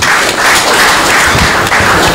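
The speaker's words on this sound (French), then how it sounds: "il faut l'applaudir" A crowd applauds a speaker at a political gathering: dense, loud, continuous clapping that fills the whole moment without a break.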